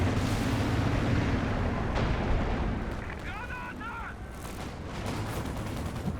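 Company of Heroes 2 bomb explosion in a 3v3 match, a heavy rumbling blast over dense battle noise and gunfire, with a commentator talking over it.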